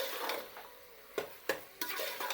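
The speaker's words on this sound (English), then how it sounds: "Now we stir the mince a bit." Mince being stirred in a cooking pot for an Anglo-Indian mince and dal dish, with a few distinct scraping knocks of the spoon against the pot over a soft background sizzle.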